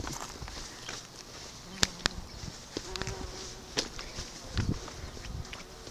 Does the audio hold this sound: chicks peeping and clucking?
no